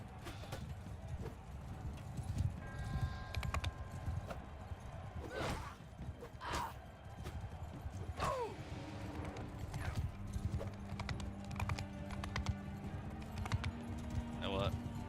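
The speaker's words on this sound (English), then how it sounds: "So many horses!" Horses galloping in Mount & Blade Bannerlord, a busy, steady clip-clop of many hooves with an occasional whinny, layered with game clutter and mixed under ongoing talk.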